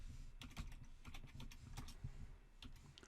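Steady typing on a computer keyboard while entering product names into an Excel spreadsheet, with quick, irregular key clicks running continuously, close and fairly quiet, with no talking.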